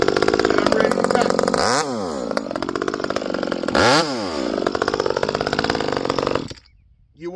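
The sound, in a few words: ported Echo 2511t chainsaw running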